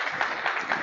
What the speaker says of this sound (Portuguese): salva de palmas para o Silas